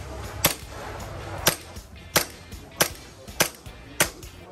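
A BB gun fires six sharp, evenly spaced shots at a target in a store setting, each a crisp snap with a quick tail, close and fairly loud over faint background noise.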